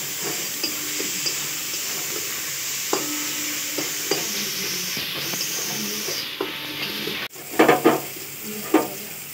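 Cumin and coriander powder masala being sautéed for ghugni, with a steady close sizzle and repeated scraping stirs, then a sharp pan clatter and louder stirring near the end.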